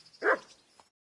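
A dog barks once in Kingdom Come Deliverance 2, a single short mid-pitched bark in a quiet game scene, followed by a faint trailing yelp.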